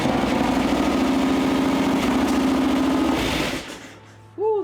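A Harley-Davidson Twin Cam FXR motorcycle engine runs loud and close with a rapid, pulsing rumble for several seconds, then cuts out, followed by a brief voice exclaiming.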